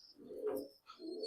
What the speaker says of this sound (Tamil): ஸோ புறாங்களை பாருங்கள், புறாங்க எப்படி எப்படி இருக்குது